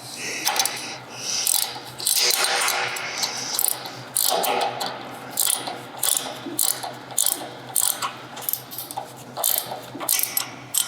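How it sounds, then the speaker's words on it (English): A 3/4 inch wrench snugs a bottom nut on a cable assembly, giving close, loud, repeated ratcheting clicks and metallic clatter in irregular bursts throughout, with no talking. "Then we can put our other 3/4 wrench on the bottom nut."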